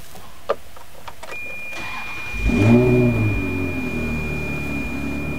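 A 2000 Ferrari 360 Modena cranks briefly, fires up and blips into a loud rev before settling into a steady idle, close to the car with no talking.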